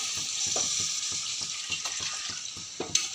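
Tamarind water is poured into a hot pan for drumstick curry, giving a steady watery sizzle and bubbling with a few soft clinks and splashes, close and moderately loud.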